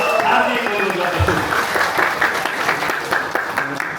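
At a party gathering, a crowd gives loud, sustained applause to welcome comrades, with voices heard over the clapping throughout.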